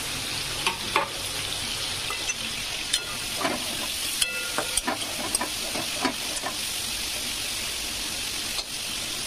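Pieces of fresh katla fish fry in hot oil in a pan, giving a steady close sizzle broken by scattered sharp pops and crackles, with no talking.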